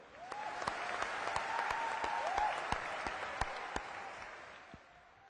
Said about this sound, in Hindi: परम आदरणीय प्रधानमंत्री नरेंद्र मोदी जी की तालियों की गड़गड़ाहट से स्वागत करें।